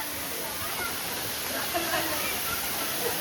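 Hot spring water flowing near the Nhavankond waterfall, a steady broad rushing hiss of water filling the whole clip, with a few faint voices in the background.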